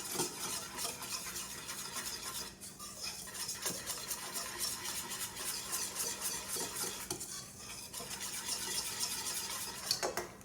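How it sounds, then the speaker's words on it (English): A whisk stirs dry muffin ingredients in a bowl, with a steady, continuous scraping swish that runs alone throughout and has brief pauses near the three and eight second marks. "So now I'm going to take my whisk, and I'm just going to sift all of this together."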